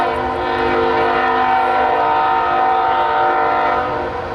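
A freight train loaded with chemicals rumbles past close by in the Moyie River Valley, a loud, steady drone of rolling railcars with a sustained horn-like tone and faint clickety-clack throughout.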